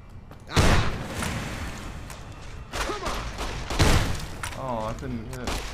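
Gunfire in Fallout New Vegas: a few loud, abrupt shot bursts spaced a second or two apart, with someone talking over the game sounds.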